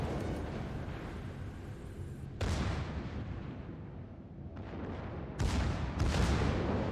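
Warship broadsides roar in a naval battle game involving a ZF-6 cruiser, with heavy booming salvos: a rumbling barrage, then a loud volley near the middle and two more close together at the end.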